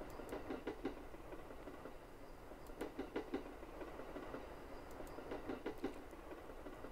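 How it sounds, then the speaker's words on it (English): Train at an empty station at night, faint rhythmic clacking in short grouped bursts over a low rumbling hum. "The train was waiting for me."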